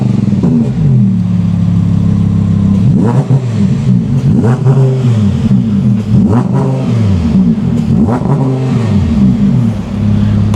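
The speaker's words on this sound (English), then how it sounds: "we've got these giant exhaust tips which sound beautiful" An Audi R8 engine revs hard through large exhaust tips, rising and falling in repeated sharp blips against a steady loud drone, close and without talk.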